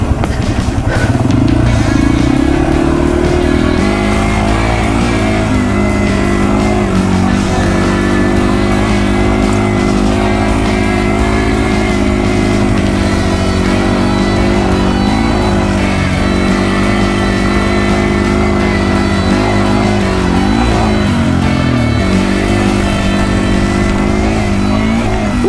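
A Yamaha TW200 motorcycle climbs dirt hills at Baldy Mesa, its engine loud and close throughout, droning and revving steadily with clattering from the rough ground and no talk.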